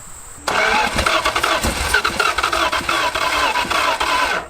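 A 1970 Plymouth Satellite engine, long abandoned, cranks and catches after 35 years, bursting into loud, rough running with uneven revving close by.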